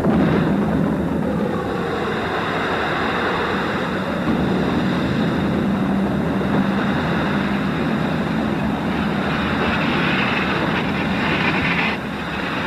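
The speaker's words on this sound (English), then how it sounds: "Just an incredible explosion from somewhere way over there" A distant, incredible explosion sets off a long, heavy rumbling roar that rolls on steadily for several seconds before dropping off near the end, with no voices over it.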